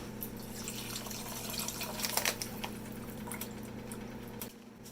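Water poured from a tap or jug into a cooking pot for rice, a steady liquid rush with splashy bursts, close and fairly quiet, cutting off just before the end.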